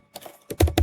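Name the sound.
typing a command on a computer keyboard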